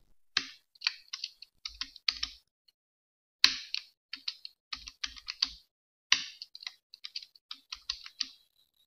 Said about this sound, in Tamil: இப்போ நான் டேப் கொடுத்து டைப் பண்ணுறேன் பாருங்கள்.